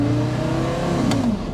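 Engine of a Porsche Carrera GT accelerating on the road, a loud, steady, smooth mechanical note close by with a rising tone throughout.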